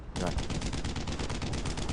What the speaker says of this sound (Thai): รอปืนหลักมันยิงก่อน